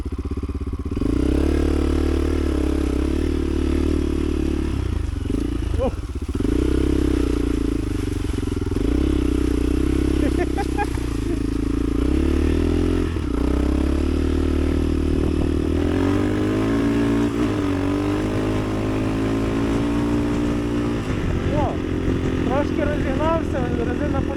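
A soft-enduro motorcycle rides off-road near Ternopil, its engine droning loud and close throughout with shifts in pitch as the rider throttles up and down, plus occasional clatter and scraping from the rough ground.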